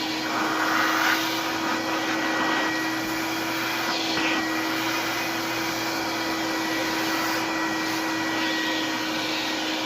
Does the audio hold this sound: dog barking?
no